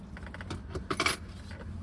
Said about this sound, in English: today, I got my keys